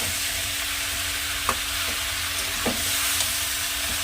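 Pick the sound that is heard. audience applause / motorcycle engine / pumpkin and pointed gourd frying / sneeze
pumpkin and pointed gourd frying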